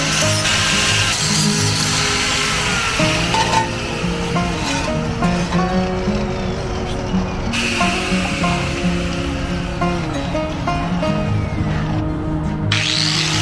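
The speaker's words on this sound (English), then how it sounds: "Drill a couple of holes." A power drill bores holes through the metal license plate bracket of a 1962 Chevrolet C10 pickup, giving a loud, continuous whine that shifts in pitch across several passes, with no talking.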